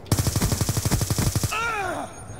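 Rapid automatic gunfire from Black Ops II, a fast steady burst of about a dozen loud close shots lasting under two seconds, followed by a falling whistling tone.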